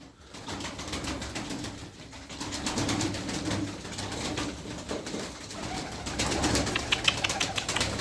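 Pigeons coo repeatedly inside their coop during feeding, several birds calling at close range over a busy, rustling background.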